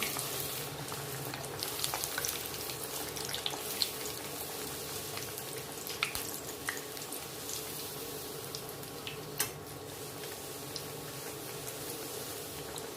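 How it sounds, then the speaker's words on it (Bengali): Rolled-out rounds of dough fry in hot oil, a steady close crackle and bubbling with small spatters and sharper pops throughout, no talking. "এবার এগুলোকে এক এক করে আমি ভেজে নেব।"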